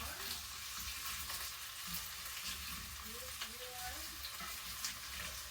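Sausage and meatballs fry in skillets with a continuous soft sizzle and occasional stirring scrapes, a steady low crackle throughout with no voices.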